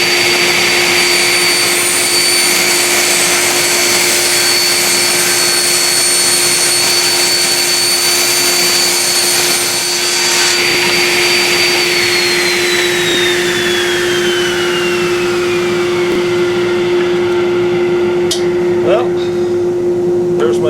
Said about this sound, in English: Let me go turn the dust collector on.